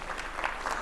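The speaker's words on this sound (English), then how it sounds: "he deserves a clap for that one" Audience applause, a brief burst of scattered clapping at moderate distance, steady and fairly faint for under a second.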